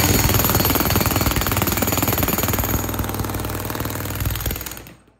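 A Milwaukee MX Fuel breaker hammer pounds concrete in a loud, close, continuous rapid hammering burst that runs for several seconds and then cuts off abruptly.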